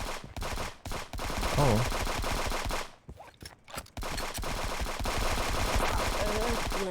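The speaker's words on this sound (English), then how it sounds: "Where are you shooting me from?" Rapid bursts of gunfire in a multiplayer video game crack out in clusters, with short pauses between volleys, while a voice briefly exclaims over the shooting.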